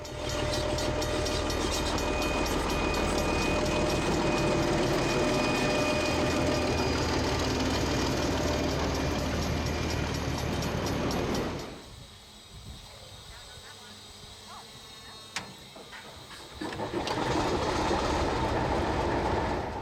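Restored locomotive 511 on the Ferrymead Railway in New Zealand rolls past close by with loud, steady rumbling and rhythmic clatter, then fades to a quieter lull before the roar resumes.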